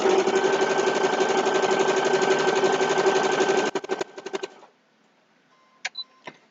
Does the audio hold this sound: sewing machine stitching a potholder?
yes